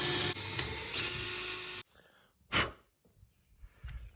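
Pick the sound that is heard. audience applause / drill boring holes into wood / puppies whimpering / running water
drill boring holes into wood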